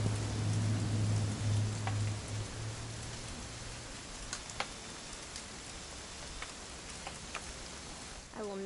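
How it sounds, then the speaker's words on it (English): Steady rain falls in the video game What Remains of Edith Finch, a continuous soft hiss with scattered light ticks of drops and a low hum early on, holding an even level throughout. "It's gonna rain the whole weekend,"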